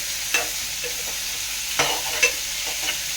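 Potato pieces frying in a pan for jackfruit curry, a steady sizzle carrying a few sharp scrapes and clinks as they are stirred, close and moderately loud with no talking.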